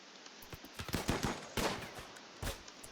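Gunfire in the RimWorld video game: a quick scatter of sharp, faint shots spaced irregularly, with a heavier burst near the middle, no talk.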